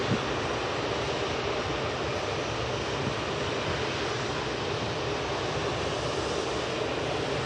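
Jet engines of an Airbus A380 roar at Manchester Airport's visitor park: a broad, unbroken rumble that holds steady and loud throughout, with no voices over it.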